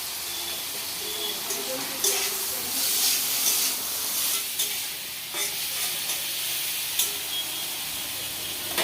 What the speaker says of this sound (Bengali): পেঁয়াজ টমেটোটা ভালো করে ভাজার জন্য দিয়ে দিচ্ছি একটু লবণ